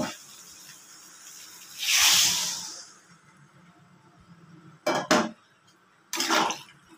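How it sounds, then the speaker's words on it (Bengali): Water poured into a hot pan of fried soybean chunks, potato and pointed gourd gives one loud, hissing sizzle burst that fades over about a second. Two short bursts of metal utensil clatter follow. "জল দিয়ে দিয়েছি, এবার আলু, পটলটা সিদ্ধ হবে"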